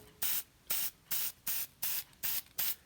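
Seven short, even bursts of hissing spray from an aerosol can of layout ink, evenly spaced with brief pauses between them, close and clear.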